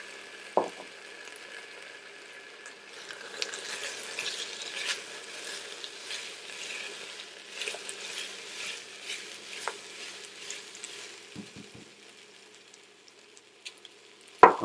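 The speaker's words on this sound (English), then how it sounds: "Once you get the onions nice and aromatic, we're going to drop" Potatoes dropped into a pot of hot oil with aromatic onions, heard as a steady, moderate sizzle and patter with occasional stirring scrapes and clinks, no voices.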